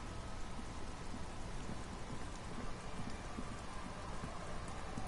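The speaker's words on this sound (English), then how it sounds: "It's getting late, and it's raining." Steady rain falling in the Disco Elysium video game, a continuous hiss of drops on surfaces with faint patter, even and moderately soft throughout, with no talking.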